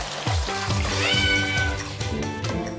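A pet cat shut inside a bathroom gives loud, drawn-out meows and wails to be let out, with faint trickling water underneath.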